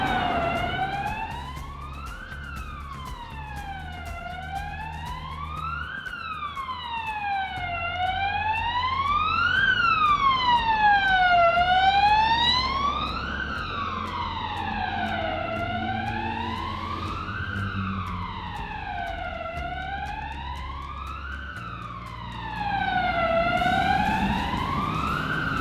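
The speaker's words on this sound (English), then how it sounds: "we got the police coming now" A police siren wailing through the streets of Bruges near a canal, its rising and falling tone repeating steadily for the whole stretch, fairly loud and swelling as it passes, over low background street noise.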